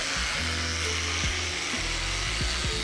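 A power screwdriver runs with a buzzing mechanical whine that rises and falls as its speed changes, continuous and close over a steady background hiss.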